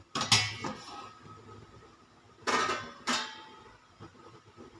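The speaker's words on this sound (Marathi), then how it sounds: "आता आपण ह्याच्यावरील ताट काढून घेऊया" A metal plate lifted off a pot of steamed rice-flour dough gives a couple of sharp close clanks and a scrape, followed by softer clinks and kitchen handling noise.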